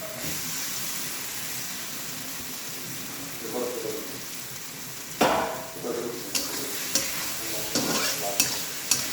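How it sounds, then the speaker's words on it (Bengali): Potatoes go into spice paste that has been fried in oil for a katla fish curry. Steady sizzling and hissing run throughout, with stirring scrapes and clatter growing busier in the second half. "এই যে মশলাটা কষিয়ে তেল ছেড়ে দিয়েছে, এবার আমি আলুটা দিয়ে দিচ্ছি।"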